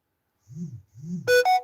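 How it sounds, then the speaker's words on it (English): A phone notification chime sounds when a text message arrives. It is a short bright run of tones at the end, after two soft low murmurs. "Let me put my phone on Do Not Disturb. My brother texted me."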